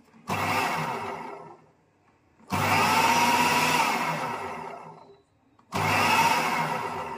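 A food processor mashing batter with a little water, three loud whirring motor bursts of a few seconds each separated by short pauses.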